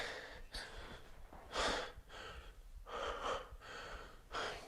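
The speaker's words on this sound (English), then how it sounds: "Breathing." Heavy breathing during a fat-burning workout: about five rhythmic, forceful breaths and gasps, close to the mic and fairly faint, with no talk.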